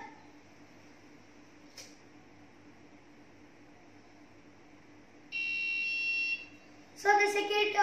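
A steady electronic buzzer tone from an elevator alarm sounds for about a second, then a harsher, louder alarm burst starts near the end, over a faint constant hum.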